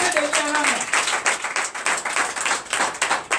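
Clapping from a church congregation at a night deliverance service in Comè, Benin, brisk and fairly loud, filling the space with a steady patter of many hands while a voice carries briefly over it at the start.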